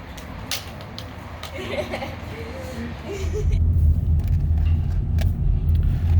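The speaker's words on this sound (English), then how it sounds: "We are driving around Buena Park. Austin is back at the wheel." A car driving around Buena Park, its low road rumble steady and then swelling louder and heavier partway through, with faint knocks and rattles from inside the cabin.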